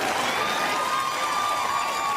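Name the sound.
audience cheering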